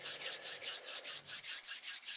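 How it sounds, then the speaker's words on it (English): Palms rub briskly back and forth against each other close up, about a dozen even swishing strokes in a steady rhythm with no pauses and no talking. "I like to do my little rubbing my hands."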